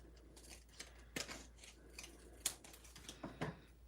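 Scissors snip paper for a handmade card, about three distinct cuts spaced apart against a quiet room hum, with no talking.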